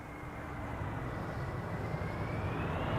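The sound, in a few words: landing airplane using thrust reversers at Amsterdam Schiphol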